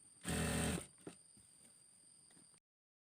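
A sewing machine stitching a folded fabric hem on a ruffled shoulder top runs in one short loud burst, then stops, leaving a faint click and quiet room hiss.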